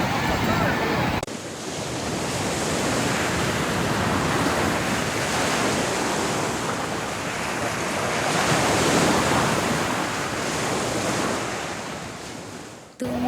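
Sea waves break at the shore in a continuous, loud rushing surge with wind buffeting the microphone, swelling and easing slightly over several seconds; no speech is evident.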